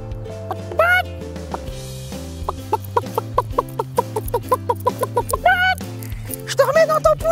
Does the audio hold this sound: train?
no